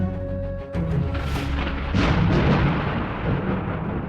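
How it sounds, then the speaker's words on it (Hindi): A loud rolling rumble of thunder in a rainstorm, with a sharp crack near the middle and a second swell of rumbling that carries on to the end over steady rain noise. "आसमान में तेज बिजली कड़की"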